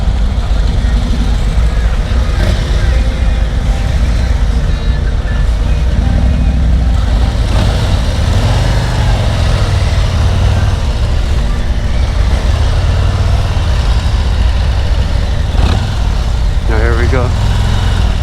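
A 2022 Harley-Davidson Road Glide ST motorcycle rumbles steadily under way with constant wind noise, while a rider talks over the loud engine drone.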